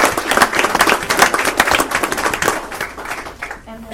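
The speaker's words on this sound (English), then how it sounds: "I want to give an applause to these parents that are here tonight" Scattered audience clapping at a school board meeting, a room of people applauding in uneven bursts that thin out and fade toward the end.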